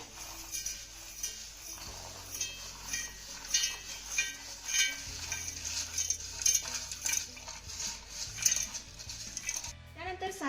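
Metal spoon clinks and scrapes against a steel mixer jar in quick, light taps, spooning in cooled sesame seeds, fairly close, with a faint low hum underneath and no speech.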